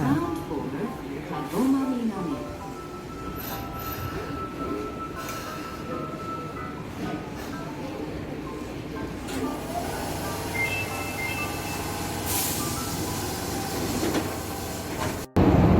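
Train ride in Osaka, Japan, with a steady rumble of rail carriage running, clickety-clack wheel noise and occasional squeals throughout, a brief sharp break near the end, and a voice speaking over it.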